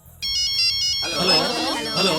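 A mobile phone rings with a bright, repeating electronic ringtone, loud and close, leading into a busier melodic phrase with a voice over it.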